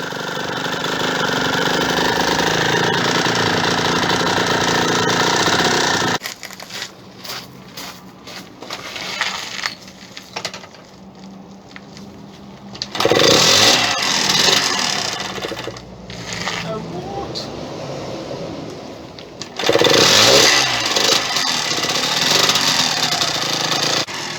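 A Yamaha DT motorcycle engine idles with the choke out, running rich and loud at first, then dropping to a rougher, quieter putter before surging back in two bursts of revving.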